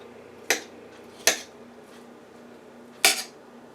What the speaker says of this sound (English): Just scraping this excess beef off.